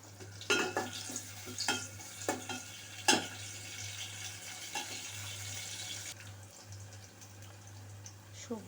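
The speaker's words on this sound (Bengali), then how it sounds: "রান্না করার জন্য দিলাম তেজপাতা পেঁয়াজ কুচি আর মরিচ কাঁচামরিচ" Bay leaf, chopped onion and green chili fry in a pan, a soft sizzle under sharp scrapes and taps of a stirring utensil, with a faint steady hum behind.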